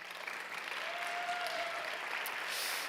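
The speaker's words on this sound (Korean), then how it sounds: "우선은 박수로 앞으로 모실까요?" A church youth congregation gives a soft, sustained round of applause at a distance, steady and fairly faint for a few seconds.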